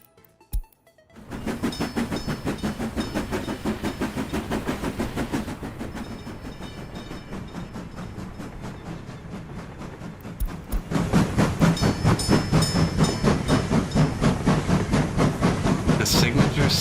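Rail traffic at a train depot in the video game Workers and Resources: a steady rolling rumble with hiss and rhythmic clickety-clack, growing louder and denser partway through, with no speech over it.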